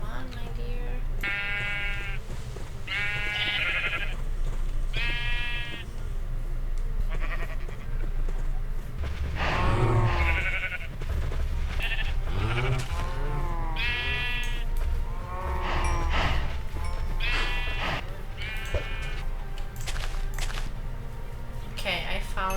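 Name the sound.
sheep bleating in a video game (Fatebound)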